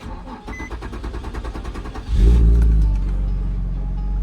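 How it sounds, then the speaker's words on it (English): A car engine cranks and fires up after its fault codes are cleared, giving a rhythmic starter whir for about two seconds before catching with a loud rev and settling into a steady, close idle. "Let's leave the car running."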